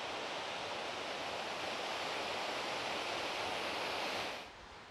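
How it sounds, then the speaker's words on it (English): Small woodland waterfalls near Freiburg, Germany, give a steady, full rushing wash of falling water, close and unbroken, cutting off abruptly at the very end; no voices. "Lots of lovely little waterfalls."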